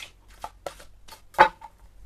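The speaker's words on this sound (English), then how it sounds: "I have pre-shuffled these. I have to do it here as well." A deck of tarot cards being shuffled by hand at close range, several quick riffling bursts with one louder flurry, no talking.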